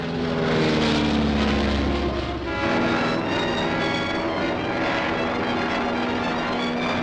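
A propeller airplane drones loudly and continuously in flight, a steady close engine roar that holds without letup, with no voices.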